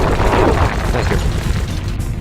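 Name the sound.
explosion destroying a mine in Sly Cooper video game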